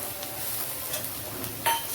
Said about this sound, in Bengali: আদাটাকেও খুব ভালোভাবে ভেজে নেব